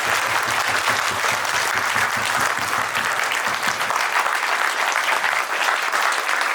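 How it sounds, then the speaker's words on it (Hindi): An audience standing to applaud a team at a company's 25th anniversary celebration, dense sustained clapping from a large crowd filling the hall without a break. "मैं चाहूंगा सभी लोग खड़े होकर इस टीम को तालियां बजा के स्वागत।"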